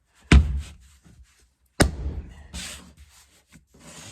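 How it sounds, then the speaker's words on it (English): Two sharp, loud hammer blows land on a piece of scrap wood laid over a vinyl plank flooring seam inside a Ford Transit Connect camper van, each one a heavy thud with a short ring, about a second and a half apart. "give it a whack with a hammer"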